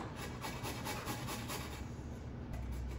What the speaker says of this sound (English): We're gonna use the small grater.